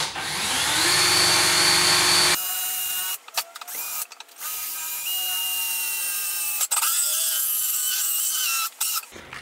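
A power tool bit cuts a hole in a scooter deck: a loud, steady high-pitched whine runs at first, then gives way to short, intermittent bursts of grinding with brief pauses between them.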